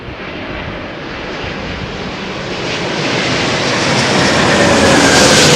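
An Airbus A350 airliner landing in gusty crosswinds of about 34 mph, its engines a broad roaring rumble that swells steadily louder as it draws near.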